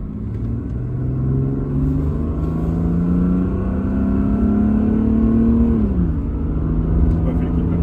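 A Mercedes W210 300td with the OM606 diesel engine accelerating at full throttle, a loud gruff, truck-like drone rising steadily in pitch before dropping at a gear change and climbing again, heard from inside the car.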